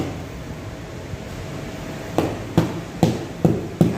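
Rubber mallet tapping platform parts so they lock into place during assembly, five sharp, evenly spaced knocks in the second half over a steady background hum.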